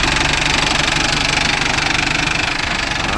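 A Mahindra Arjun Novo 605 DI tractor engine runs close and loud with a steady, rapid knocking beat over a dense mechanical rumble, continuous with no talking.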